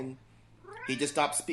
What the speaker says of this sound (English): Sorry, that's my cat. I don't know if you can hear her.